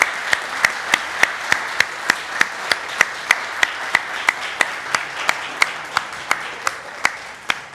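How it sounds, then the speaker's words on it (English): A church congregation at a Sunday flower communion and recognition service claps for its volunteers in a steady, even rhythm, with each sharp clap landing roughly every third of a second over a low room hum. "round of applause for all of our volunteers"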